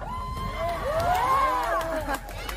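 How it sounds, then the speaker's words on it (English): A crowd cheering and whooping outdoors, a short burst of excited shouting voices rising and falling, moderately loud. "They're cheering taking out the trash."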